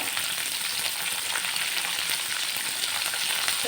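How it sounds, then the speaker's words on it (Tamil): Onion, garlic, curry leaves and green chili sauté in oil in a pan, giving a steady, dense sizzle with crackling throughout, fairly close and continuous, with no voices. "இது எல்லாத்தையும் கொஞ்சம் நல்லா வதக்கிக்கலாம் வெங்காயம் பூண்டெல்லாம் ஓரளவுக்கு வதங்கிடுச்சு"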